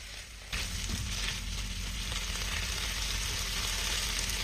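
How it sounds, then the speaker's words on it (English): Beef and broccolini sizzle and crackle loudly in a hot stir-fry pan, a constant frying hiss with occasional stirring clatter and no talking. "Stir fry for 1 minute."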